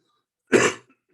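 A single short, harsh cough from a man close to the microphone, isolated against near silence.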